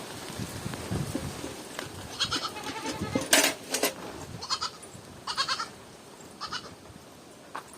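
Goat bleating in a string of separate calls, loud and close, with short pauses between the bleats and no talking.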